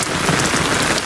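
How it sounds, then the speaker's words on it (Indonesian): Heavy rain pours steadily in the Maldives, a dense, even hiss of drops striking surfaces, loud and close with no pauses. "hari ini hujannya kayak slow gitu"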